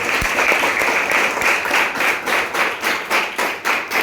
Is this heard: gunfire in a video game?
no